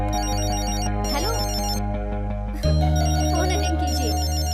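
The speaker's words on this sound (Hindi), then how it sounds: "फोन अटेंड कीजिए।" A phone ringtone plays a repeating electronic melody, loud and close, continuing steadily throughout over a layered musical background.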